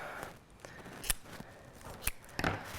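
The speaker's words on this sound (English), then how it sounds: "So I cut these strips into thirds." Scissors snipping through plastic bottle strips to cut them into thirds, three or four crisp, close cuts spaced apart with quiet handling between them.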